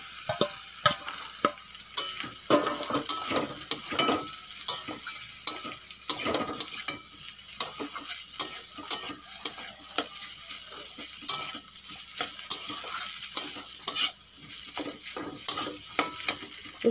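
Boiled potatoes are stir-fried in a pan with onion, ginger and garlic: a constant sizzle under brisk, rhythmic spatula scrapes and knocks that keep repeating throughout, with no speech.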